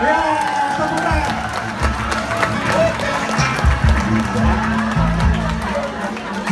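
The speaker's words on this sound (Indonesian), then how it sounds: "Ya, tepuk tangan." Theatre audience at a comedic stage opera performance claps and cheers in a dense, continuous burst with voices and laughter mixed in.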